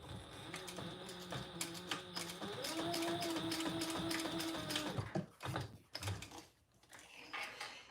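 A sewing machine stitching two rows on sturdy webbing for a belt, a quiet mechanical whir with rapid needle clicks in a steady run of a few seconds, then a few slower clunks and handling noises.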